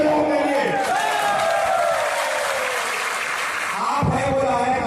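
A protest crowd gathered over a Chhattisgarh teacher-recruitment demand applauds steadily, a dense wash of clapping mixed with cheering voices that swells slightly near the end.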